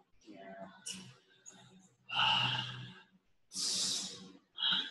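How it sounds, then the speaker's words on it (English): Deep breaths pushed out through an open mouth during a relaxation exercise, coming as several loud, close, breathy exhales with quieter breathing and sounds between them. "Relax and open and breathing out."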